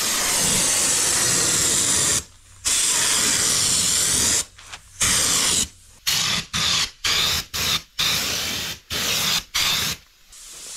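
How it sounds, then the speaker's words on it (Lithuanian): A spray gun applies Gravitex anti-chip coating to a car, a loud close hissing spray in repeated bursts: one long pass, then quicker on-off triggers with short silent gaps. "Gravitekso purškimas."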